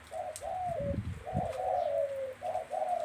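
A captive wild dove with a single-note coo gives soft, low coos that repeat in a steady pattern, close and clear, with a brief rustle or flutter midway.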